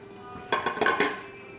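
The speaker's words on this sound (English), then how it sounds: "Then we are going to stir it." A spoon stirs red oil vegetable stew with tomato, pepper, onion and ogili in a metal pot, giving a short cluster of clinking scrapes against the pot, fairly close and alone.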